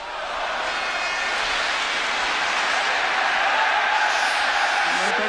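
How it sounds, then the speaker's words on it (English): Stadium crowd at the 1983/84 UEFA Cup Final first leg between Anderlecht and Spurs, applauding in a broad, steady roar that holds throughout, with a commentator talking over it. "And that's quite a lot to applaud."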